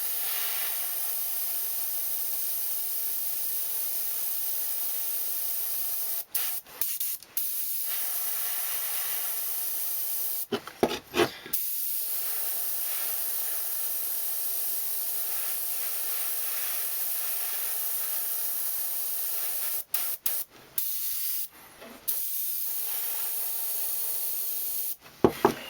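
An airbrush sprays paint onto a custom crankbait fishing lure in a steady, close, continuous hiss, broken by a few brief pauses near the middle and the end.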